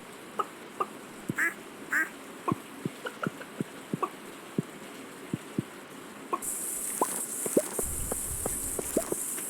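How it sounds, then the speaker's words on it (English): Ducks on a farm in the Stardew Valley video game give short, separate quacks and clicks at an uneven pace, light and fairly faint over a soft game background, with a brighter layer of noise joining near the end. "Oh, the ducks are big ducks now"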